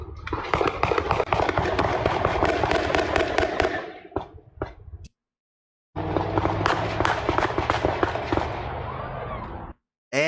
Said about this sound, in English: AK-47 fire. You can hear that stuff.